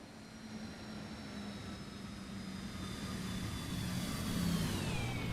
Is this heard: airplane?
yes